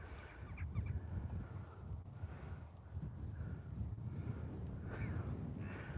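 Large flock of around fifty crows, repeated caws scattered near and far over steady wind rumble outdoors during a dog walk.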